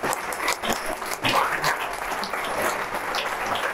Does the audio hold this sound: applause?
yes